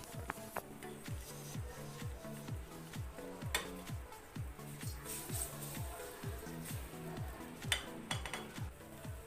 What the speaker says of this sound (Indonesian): Tambahkan bumbu yang telah dihaluskan tadi.